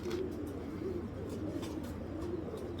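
A long-distance racing pigeon hen coos softly in low, repeated murmurs at a moderate distance, set against a steady background hum with no voices.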